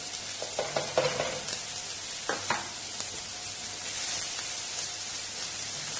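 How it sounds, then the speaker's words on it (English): Diced onion and carrot sizzling in a pan, a steady close frying hiss with a few stirring clicks and scrapes early on, no talking. "I'm just going to cook the carrot and onion down until the carrots and onions start to soften."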